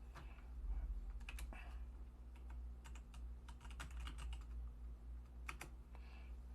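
Computer keyboard typing while naming a folder, quick bursts of light key clicks in short clusters, close but quiet over a steady low hum.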